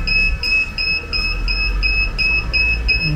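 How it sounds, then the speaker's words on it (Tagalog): A powder coating oven's alarm beeps in a steady run of short, evenly spaced high electronic pulses, loud and close over a low machine hum. "Alarm."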